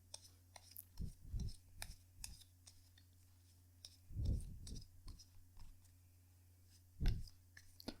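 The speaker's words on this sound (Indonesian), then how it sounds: "kartunya dikocok dulu sebelum kita mulai" Tarot cards are shuffled by hand: quiet papery rustles and clicks, with a few louder soft bursts of shuffling spaced a few seconds apart.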